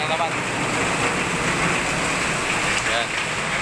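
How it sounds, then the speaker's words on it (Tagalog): Steady rain falling outdoors, a constant dense hiss of drops on surfaces with no pauses, with faint traffic-like rumble underneath. "umuulan na naman."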